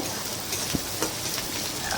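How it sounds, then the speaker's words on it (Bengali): Chopped onions sizzle in a pan as they fry toward reddish brown, a continuous close hiss with a couple of brief stirring clicks, no voices. "পেঁয়াজটা ভালো করে লাল লাল করে ভেজে নিতে হবে"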